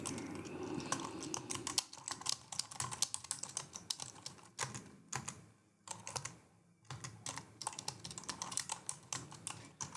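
Someone types on a computer keyboard up close, a fast irregular stream of key clicks with brief pauses, while writing a story, with no talking.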